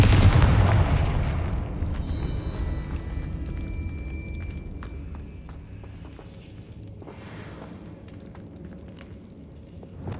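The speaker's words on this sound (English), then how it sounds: "Confringo!" A Confringo spell blast in Hogwarts Legacy on PC bursts loudly at the start, then a long rumbling decay with faint crackle and a brief higher whoosh near the end.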